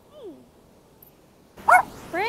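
A small dog gives a couple of short, high yips and barks close by, sudden and fairly loud after a quiet stretch, with a brief whine-like sound at the start.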